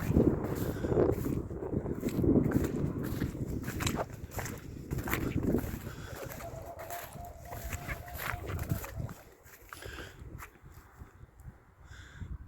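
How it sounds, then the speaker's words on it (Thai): Strong wind buffets an open field where a crescent-moon kite is being flown, a steady rushing roar with gusty bursts and microphone rumble that eases toward the end, with a faint whining tone in the middle. "โอ้ลมเริ่มมากแล้ว"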